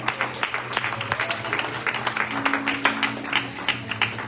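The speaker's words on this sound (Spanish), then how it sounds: "Den un aplauso al Señor." A church congregation applauds during a Spanish-language sermon, a steady, fairly close wash of many hands clapping that holds evenly for a few seconds with a low hum underneath.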